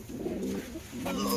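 Pigeons coo in a loft, two low throaty coos close by, with a short break between them and faint background noise.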